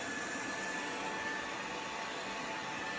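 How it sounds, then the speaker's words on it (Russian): NEATSVOR X500 robot vacuum cleaner, a 3-in-1 model with wet mopping, running on the floor with a steady, fairly quiet broadband whir and hiss that holds unchanged throughout, with no talking. "и поехал пылесос у нас пылесосить."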